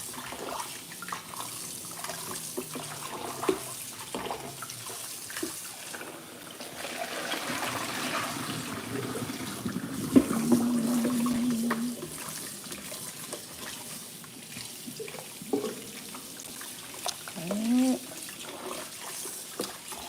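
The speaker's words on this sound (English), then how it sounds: "So now I'm rinsing it" Tap water runs and splashes while a container is rinsed in a sink, a steady close trickle with shifting gurgles and a few clunks as the vessel is moved under the stream.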